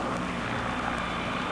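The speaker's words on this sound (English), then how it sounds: "came the sound of a helicopter to shatter my communion with the lichens" A helicopter flying over a caribou-counting area on a plateau, a steady broadband engine and rotor roar, continuous and moderately loud with no talking.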